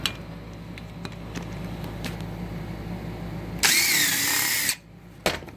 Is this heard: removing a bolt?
yes